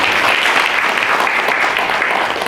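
Audience applause at a Korean youth leadership forum, a dense, steady wash of many hands clapping at once that stays loud for the whole stretch with no voices on top.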